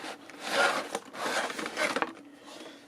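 An HO scale Gunderson Multi-Max autorack model slides out of its cardboard box in several close, scratchy rubbing strokes with small taps, with no voices over it.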